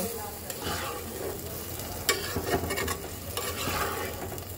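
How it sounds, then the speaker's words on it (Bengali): Garam masala paste stirred into chicken and cabbage frying in a pan, with a continuous loud sizzle and repeated scraping strokes of the spoon, close up, no voices. "এই এখন আমি দিয়ে খুব সুন্দর করে মিক্সড করে দেব"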